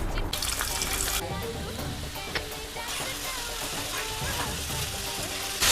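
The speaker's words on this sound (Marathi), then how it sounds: "कांदा, टोमॅटो, लसूण हलकं भाजून घ्यायचं तव्यावर" Onion, tomato and garlic roasting on a hot griddle while making misal, giving a steady soft sizzle with faint water-like crackle throughout, fairly close, with brief clatters and a bump at the end.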